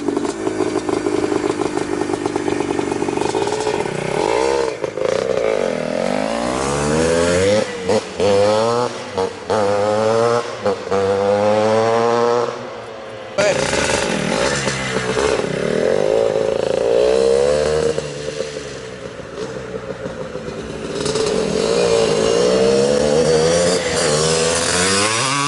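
A 1979 Honda CR250 Elsinore two-stroke dirt bike with Fox shocks and a DG pipe screams past on a street in fifth gear, its engine rising in pitch as it approaches and falling away with loud, raspy revving.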